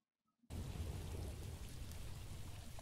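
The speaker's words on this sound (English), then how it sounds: "You can hear the rain. It's raining right now. You hear thunder in the background." Rain and thunder in a Metroid Prime 4 video game trailer: after a short silence, dense hissing rainfall starts abruptly with a deep rolling thunder rumble underneath, steady and loud to the end.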